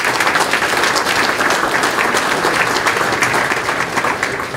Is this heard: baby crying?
no